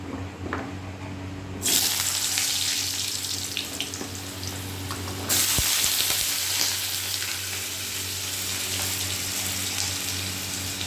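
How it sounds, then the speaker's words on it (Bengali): Potatoes hitting hot oil with a sudden loud burst of hissing sizzle that swells once more midway, then settles into a steady, close, continuous frying crackle. "তেলটা গরম হয়ে গেছে, এবার আলুটা দিয়ে দেবো।"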